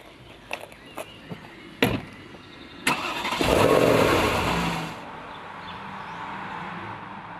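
A Porsche Panamera luxury sedan with a turbocharged V8 fires up after a few clicks and thumps, giving a loud close roar for about two seconds before settling into a steady idle.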